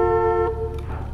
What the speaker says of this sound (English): Don't honk at me, honk at whoever installed the gate